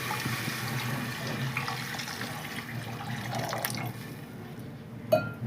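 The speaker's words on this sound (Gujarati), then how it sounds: "આપણે આ પાણી નાખી દઈએ." Water poured steadily into a pot of desi kadhi pulao: a continuous, fairly close splashing wash with no voices, ending in a single sharp clink.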